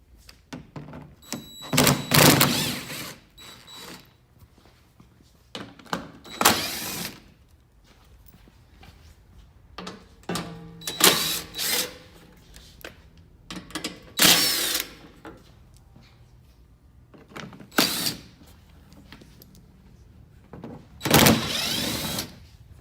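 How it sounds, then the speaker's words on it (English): A 10mm socket on a ratchet or power driver backs screws out of a third-generation Toyota Tacoma front fender, a series of short buzzing bursts spaced several seconds apart, close and fairly loud, with quiet handling noise between. "Then just use your 10mm socket to remove the rest of the screws."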